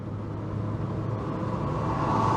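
A Nissan Micra with a CVT gearbox accelerates uphill in sport mode, a steady low engine drone with road rumble heard from inside the cabin, slowly swelling toward the end with no talk.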